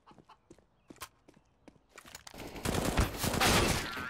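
FAMAS rifle fire in CS:GO: scattered sharp single shots and short bursts at first, then a denser, louder stretch of rapid gunfire in the second half, no voices.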